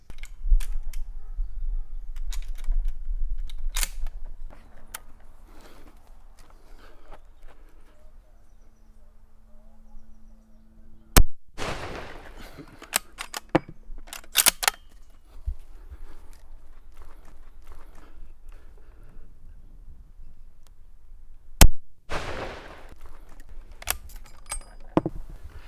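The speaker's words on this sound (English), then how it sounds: "fire a couple of shots over this chronograph to demonstrate what this rifle" A 600 Overkill rifle with a 22-inch barrel firing 900-grain bullets over a chronograph outdoors, heard as a few sharp, isolated loud cracks spaced several seconds apart, with quieter handling noises between them.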